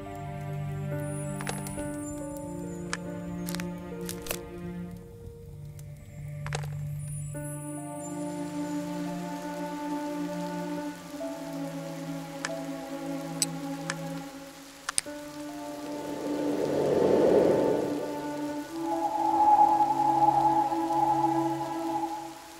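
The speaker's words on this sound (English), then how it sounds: "Has the rain stopped?" Rain falls in the farm mystery detective adventure game as a steady hiss that swells louder toward the end, under sustained melodic background music tones.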